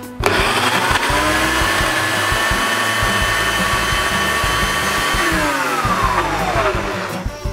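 A loud blender whirs steadily and close by, blending a healthy dip, its motor pitch holding steady, then dropping briefly near the end before picking back up.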